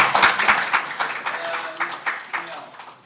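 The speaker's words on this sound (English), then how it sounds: "give them a round of applause for coming up" A small workshop audience applauds in a brief, moderately loud burst of scattered clapping that tapers off over a few seconds.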